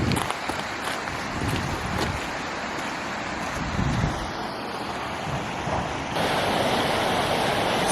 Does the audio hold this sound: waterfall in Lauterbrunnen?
yes